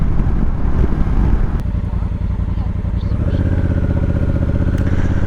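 Motorcycle riding on a trail, a loud close steady engine drone with wind buffeting at the mic and a shift to a higher steady pitch partway through.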